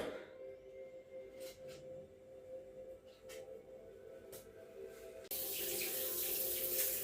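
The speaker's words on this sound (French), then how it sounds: "Alors ensuite, je fais un petit rinçage à l'eau tiède." Lukewarm tap water runs steadily while rinsing the glass of a 50-litre aquarium, a soft continuous splashing that swells into a louder, brighter gush near the end.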